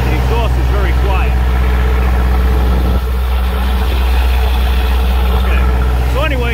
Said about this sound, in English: we got the generator started. It's pretty damn loud in the generator room